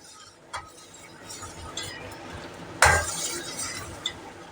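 Sugar syrup stirred in a pan for mango fritters, a spoon scraping and clinking against the metal in scattered knocks over a low sizzle, with one sharper clatter midway.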